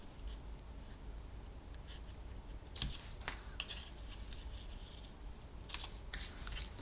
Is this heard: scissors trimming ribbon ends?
yes